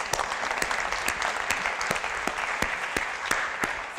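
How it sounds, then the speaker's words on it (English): A lecture audience claps warmly, a dense, sustained patter of many hands at moderate distance, steady throughout with a few sharper claps standing out. "they really, really deserve a round of applause"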